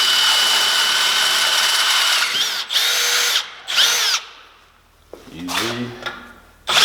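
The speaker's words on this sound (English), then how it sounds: "Then you just want to drill these out." A power drill whines in several high-pitched bursts as it bores out fasteners on a Jeep JK while the grille is off, with short pauses between runs and a voice speaking near the end.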